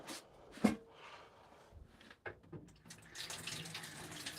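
Tap water runs into a kettle or cup for tea, a steady close hiss that rises after a few clicks and knocks, continuing to the end.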